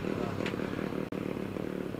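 A Ducati motorcycle climbs the hill through the S bends at the Prescott hill climb, its engine a steady close drone, with a brief sharp click partway through.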